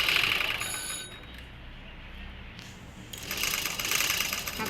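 A sewing machine stitching a plain blouse near the shoulder seam runs in a fast, buzzing whir, easing briefly to a quieter pause mid-way before speeding up again, close and steady.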